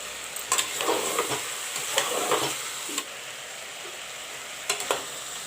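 Chana dal sizzles in hot oil with ginger and garlic already fried brown, while a spoon stirs and scrapes the pan in several short bursts over a soft, continuous frying hiss.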